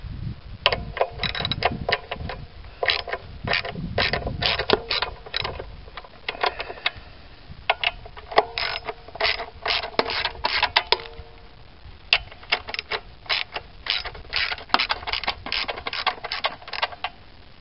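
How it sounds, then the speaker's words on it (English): A 10 mm ratchet on an extension works snug air cleaner bolts loose on a stock 1984 Corvette, giving close, rapid bursts of clicking that repeat with short pauses throughout. "I use a 10 millimeter ratchet with an extension on it to keep me way up away from them"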